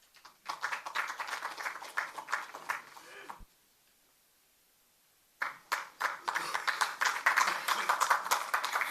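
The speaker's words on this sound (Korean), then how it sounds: "박수로 맞이해 주십시오" Applause from an audience of party lawmakers welcoming a candidate to a floor leader election speech: dense clapping that runs for about three seconds, drops to near silence for two, then swells back in a second sustained burst.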